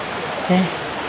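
Huai Krathing, a waterfall with many tiers, gives off a steady broadband rush of falling water, with a brief tonal voice-like blip in the middle.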